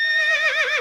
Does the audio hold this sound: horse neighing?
yes